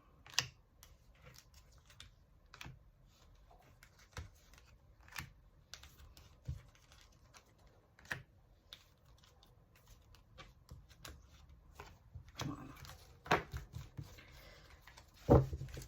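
Tarot cards being shuffled and drawn from a large deck, heard as soft, close papery flicks and taps scattered across the clip, with a few louder snaps near the end and no talking.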